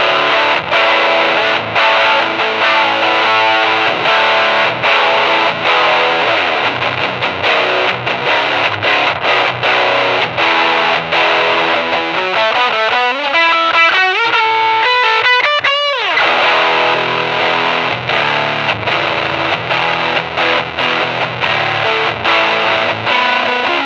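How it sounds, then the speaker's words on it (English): Loud, heavily distorted baritone guitar through a rat-style distortion pedal, bridge pickup, plays chugging low chords and a sliding run, thick and saturated throughout with no voices. "Now I'm going to try something with a lot of overdrive and distortion."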